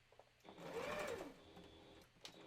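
A sewing machine runs a short burst of stitching along a Christmas stocking seam, its motor whirring steadily for about a second and a half before stopping; close and fairly quiet, alone.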